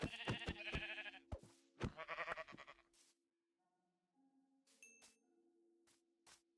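Sheep in the Minecraft video game bleat in short, close bursts alongside chimes and pings from the game. After a quiet gap come fainter tones and another brief bleat.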